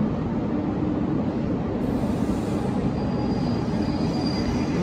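Coaches of the Mahamana Express, including luggage vans and standard ICF coaches, roll through Bareilly Junction station in a steady, loud rumble of wheels on rails, with a faint high squeal joining partway through.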